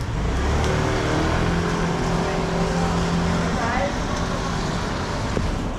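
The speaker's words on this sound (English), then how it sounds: "That car's blocking all the traffic, that white car." Car engine idling and rumbling in street traffic on a narrow uphill street in Macau, a steady close low drone with a faint rising whine.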